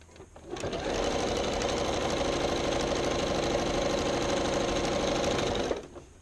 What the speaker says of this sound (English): start sewing. And start slow.